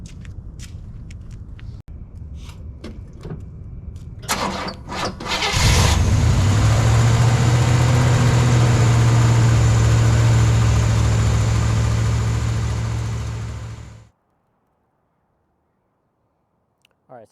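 A car engine in a home garage cranks and fires, then settles into a loud, steady idle for about eight seconds before cutting off abruptly into silence.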